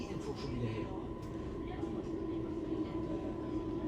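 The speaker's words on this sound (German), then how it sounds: "Die S-Bahn ist so laut, ey. Man hört sie im Zug." Inside a Berlin S-Bahn S3 train heading to Friedrichshagen, a steady low rolling rumble and rattle of the carriage fill the background, with voices faintly present.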